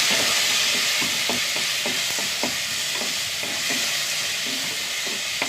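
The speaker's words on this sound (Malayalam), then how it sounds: "തക്കാളി ഒന്ന് വഴണ്ട് വരട്ടെ." Tomatoes sautéing with fried onions in a pan, giving a steady close sizzle with soft scraping stirs at irregular intervals throughout.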